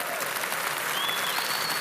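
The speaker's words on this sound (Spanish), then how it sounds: "Vamos, alguien denle un aplauso al Señor." Church congregation applauding during a sermon, a dense steady wash of many hands clapping throughout, with a faint tone drifting in the background.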